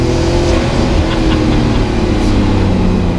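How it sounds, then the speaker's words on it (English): Fenyr Supersport hypercar with a Porsche 3.8-litre twin-turbo flat-six, heard as a loud, steady, close engine roar with a deep rumbling drone and no pauses, nobody talking over it. "They've gone and made a modern day turbocharged engine that actually sounds good."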